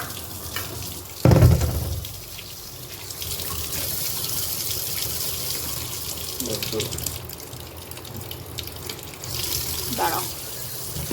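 Tap water runs steadily into a sink while fish is washed, with a loud splash early on and a few clatters. Someone speaks briefly.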